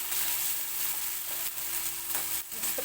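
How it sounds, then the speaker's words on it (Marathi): Garlic roasts in hot oil in a pan for Maharashtrian pithla, giving a steady, close hiss of frying with faint crackles and no talking. "चांगला असा लसूण पण आता भाजून देते"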